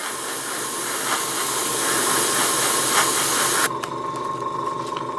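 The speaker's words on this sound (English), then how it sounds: "So we have the white in the airbrush already. So again, light coats." An airbrush sprays white paint through stencils onto models in a continuous, fairly loud hiss lasting several seconds, then cuts off abruptly, leaving a quieter background hum.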